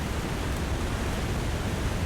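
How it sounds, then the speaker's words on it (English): Waterfalls in The Long Dark, a game set in a frozen wilderness, pour out a dense, constant broadband rush that stays loud and unchanging throughout, with no voices over it. "Also, incredibly loud with these waterfalls."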